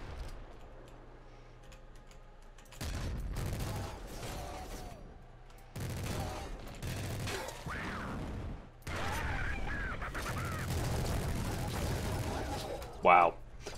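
Minigun firing in the Nuclear Throne video game: dense rapid-fire bursts in several stretches, mixed with game effects, while someone talks over them.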